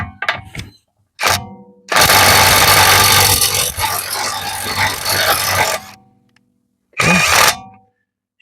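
A Parkside Performance PPDSSA 20-Li A1 cordless impact wrench (600 Nm) loosening a screw: a loud, steady hammering rattle of about four seconds, bracketed by short bursts and a final brief burst.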